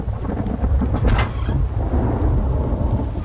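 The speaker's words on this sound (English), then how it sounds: "Yep, it's raining." Steady rain pours in a survival video game, a dense continuous hiss with low rumbling beneath and a brief brighter burst of drops near the middle, no voices.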